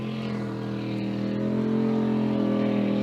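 A racing boat's engine drones steadily with strong low harmonics as it slows and lines up through a turn at a spring boat race, loud and continuous and gradually rising in level, with no talk over it.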